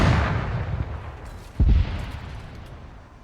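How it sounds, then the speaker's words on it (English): Machine gun fire in a video game: a burst of booming shots at the start and a second heavy burst midway, both fading into a rumbling tail, with no talk. "So there's the MG still firing at him."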